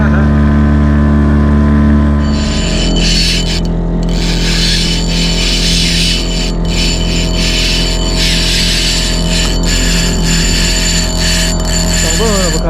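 A fishing boat engine runs loud and steady off Jamaica during a hunt for king mackerel and jacks, a constant droning hum mixed with wind and hull noise, with faint voices underneath.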